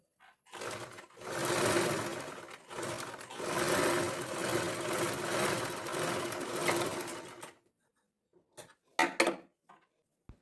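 A sewing machine stitches over a lining piece in two close, steady runs separated by a brief pause, then stops, followed by a few sharp clicks and handling knocks.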